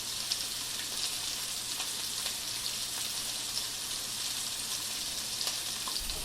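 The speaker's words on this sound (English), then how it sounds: "When the frying pan is preheated, place the chicken on the frying pan." Chicken skewers sizzle loudly in a preheated frying pan, a dense continuous crackle with scattered pops, no talking.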